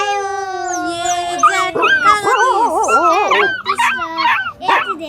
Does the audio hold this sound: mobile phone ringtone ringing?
no